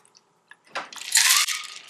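A mixed drink with lime is poured from a shaker into a glass, a soft splashing stream that starts after a couple of small clinks and runs steadily for about a second, close and clear.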